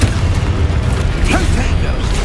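A Confringo fire-blast spell from the Hogwarts Legacy video game, a dense low rumbling burst with crackling texture lasting a couple of seconds, loud and continuous amid combat sounds.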